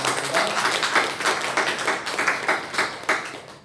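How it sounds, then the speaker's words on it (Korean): Congregation applause during a Sunday church worship service, a steady dense patter of many hands clapping throughout with rhythmic pulses, fairly close and continuous. "다시 한 번 더 박수 주시겠습니다."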